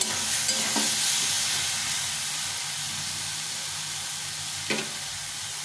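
Steady, loud sizzling of onion and tomato frying in oil in a pan, a continuous hiss up close with a couple of brief scraping stirs, no voices.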